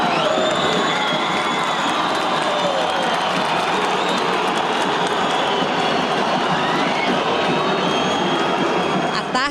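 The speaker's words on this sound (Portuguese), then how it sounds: "Já no aquecimento, Vitor recebeu o carinho da torcida" A football stadium crowd roars and cheers for the goalkeeper during the warm-up, a loud, dense and continuous wash of voices with shouting throughout.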